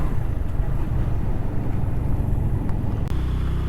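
Motorbike engine labouring up a steep, curving mountain road toward Pir Chinasi in Kashmir, a continuous low drone with a gear change near the end, close and loud with wind rumble.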